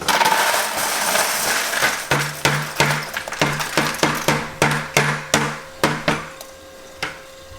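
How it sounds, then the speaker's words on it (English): Plastic K1 biomedia from a reef tank sump pours into a bucket in a rapid series of sharp rattling clatters, about a dozen bursts that thin out and stop, close and fairly loud with no talking. "I got it open and dump the K1 media in this bucket"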